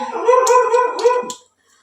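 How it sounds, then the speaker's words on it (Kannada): A puppy gives a drawn-out, whining howl-like bark close by, loud and tonal, with a few yips, before it falls quiet. "ಯಾಕೋ ನಮ್ಮ ಪಪ್ಪಿ ಬೊಗಳಾಕತ್ತೈತಿ"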